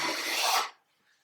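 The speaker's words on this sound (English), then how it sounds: "So I just pull it along just slowly, and I can feel it bite into that wood" A single slow pull of an H.N.T Gordon bench plane set up as a scraper across hardwood gives a close, steady, dry rasp for under a second, then it stops into near silence.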